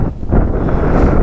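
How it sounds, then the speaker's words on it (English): Strong wind buffets the microphone on the summit of Ben Venue above Loch Achray, a loud, steady roaring rush with low rumbling gusts throughout. "See if I can find somewhere out the wind."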